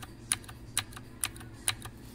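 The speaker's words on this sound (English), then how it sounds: "here's the one-handed Redragon keyboard that I have. Listen to this, how the activation is on it." Keystrokes on a one-handed Redragon gaming keyboard, four distinct plasticky clacks spaced about half a second apart, close and clear over a quiet background.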